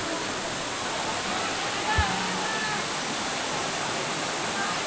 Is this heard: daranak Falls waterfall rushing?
yes